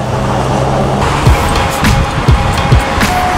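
Loud street traffic on a busy Miami road, a constant roar of passing cars with several thumping bumps as vehicles roll over something, close and loud with no talk.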